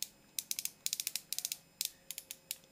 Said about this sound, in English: Oh, ratchet joints.